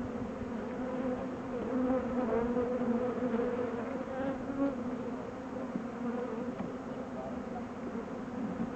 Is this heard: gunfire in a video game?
no